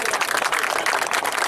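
Applause from a crowd at a kabaddi match, a brief dense patter of many hands clapping at moderate distance, steady for the whole moment.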